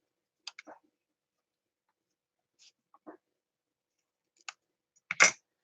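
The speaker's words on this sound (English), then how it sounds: "I'm going to cut" Scissors cutting material for small stuffed toys and tags, a few isolated close snips and clicks separated by silence, ending with a sharper louder cut.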